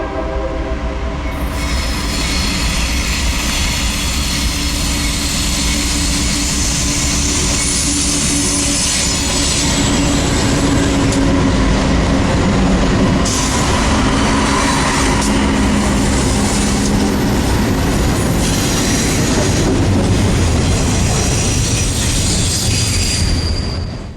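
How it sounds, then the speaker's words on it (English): A train emerges from the west portal of the 8-mile Cascade Tunnel near Stevens Pass, Washington, a loud sustained roar of rolling wheels and engines with a horn blast and squealing wheels, close and continuous. "comes the train out of the west portal"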